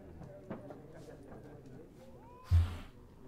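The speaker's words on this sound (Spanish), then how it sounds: "Ahí es un gato." A cat meows in The Witcher 3, a short rising, whining call near the middle of the clip, followed by a louder thump, with quiet game ambience around it.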